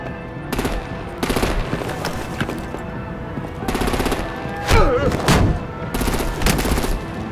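Artillery and heavy gunfire in the video game Batman: The Enemy Within come as repeated loud automatic bursts and booming shots in several waves, mixed with explosions and battle noise, close and intense.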